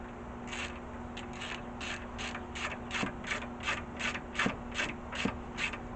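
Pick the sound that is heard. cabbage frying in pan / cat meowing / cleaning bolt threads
cleaning bolt threads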